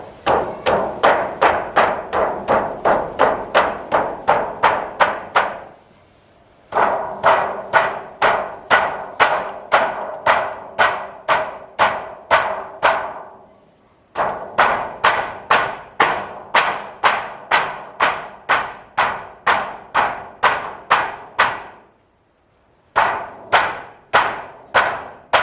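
A roofing tack driven into the edge of metal trim on a she shed build, struck with fast, evenly paced hammer blows in long runs of close, loud, ringing hits, each run separated by a brief pause.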